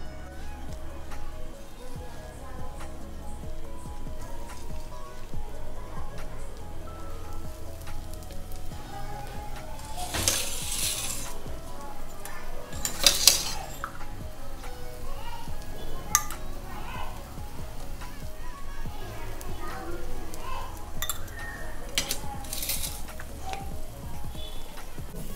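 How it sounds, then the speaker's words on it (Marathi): Sabudana tikki sizzle and crackle as they fry in oil in a pan, a steady close frying hiss running throughout with occasional louder pops and spatters. "आता आपण यांना फ्राय करून घेणार आहोत पॅनवर।"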